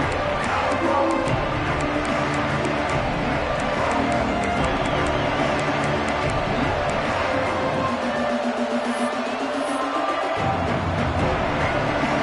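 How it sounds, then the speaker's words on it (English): Roaring football stadium crowd at a Texas A&M versus USC college game, a dense sustained wall of cheering and babble that holds loud throughout, with a brief dip in the low rumble near the end. "This crowd ready to make its presence known."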